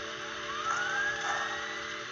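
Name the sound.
Bachmann HO scale model train steam generator dynamo running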